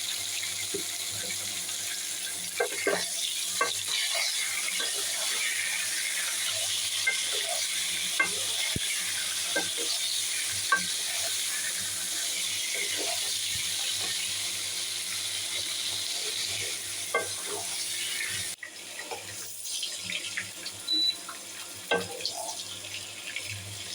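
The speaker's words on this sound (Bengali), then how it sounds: "দিয়ে পটলগুলোকে ভেজে নেব।" Pointed gourd (potol) pieces frying in oil with salt and turmeric, a steady close hiss of sizzling that runs throughout, broken by occasional light stirring clicks and scrapes, with no voices.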